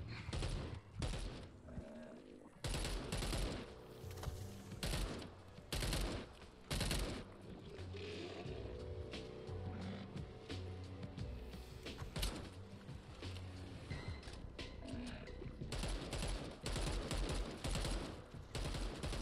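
Rapid bursts of gunfire from a firearm in the zombie video game Dead Island 2, loud volleys and single shots repeating throughout amid game effects, with no talking.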